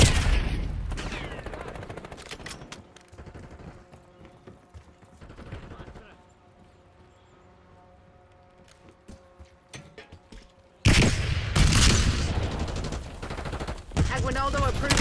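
Gunfire in Call of Duty: Black Ops 6: loud, dense bursts of shots open the exchange, give way to a quieter stretch of mechanical clatter, then a sharp, heavy barrage returns near the end.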